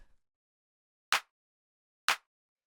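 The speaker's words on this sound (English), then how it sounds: "After that, I have this clap, which is 2 layers" Two-layer clap drum sample for minimal house, struck twice about a second apart, bright and crisp, alone in silence.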